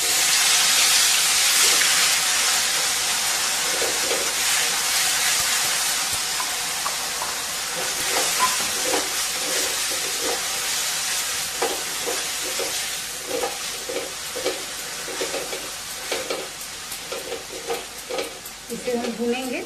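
Spice paste with asafoetida frying on a low flame in a pan, a steady broad sizzle running throughout with intermittent stirring scrapes and clicks, fairly loud and close, no talking.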